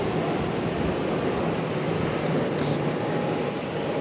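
Boeing 737 airliner at Charlotte airport, a steady broadband jet engine roar holding at a constant loud level throughout, with no voices.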